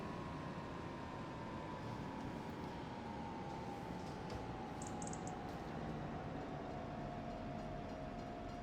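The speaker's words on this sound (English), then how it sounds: "Oh, train's coming." A train rolls past in Farming Simulator 25 on the Alma, Missouri map, a steady low rumble with a long sustained tone gliding slowly downward, fairly distant and faint, with no talk over it.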